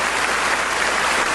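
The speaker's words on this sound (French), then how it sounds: "Un applaudissement pour notre Seigneur." A church congregation applauding together during a Bible study gathering, a dense, steady wash of clapping that stays loud and even from start to finish with no voices over it.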